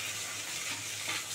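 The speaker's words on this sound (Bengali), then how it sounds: "দেখো একদম লাল করে কই মাছগুলো ভেজে নিয়েছি" Koi fish frying in hot oil, a steady close hiss of bubbling and sizzling with no talk over it.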